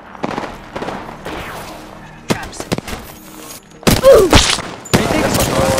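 Gunfire in the Apex Legends video game, scattered loud shots and impacts mixed with game effects, while a player talks over the action.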